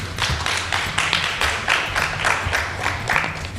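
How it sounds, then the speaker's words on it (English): A round of applause from a seated audience at a conference panel session, steady dense clapping that holds at an even level for several seconds without fading. "Another loud round of applause"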